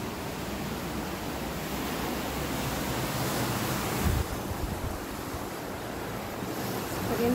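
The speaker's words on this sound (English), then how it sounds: "there's a surf break right here." Ocean surf breaking close by at an oceanfront condo in Poipu, a steady broadband wash of waves with a swell around the middle and wind noise on the microphone, no talking.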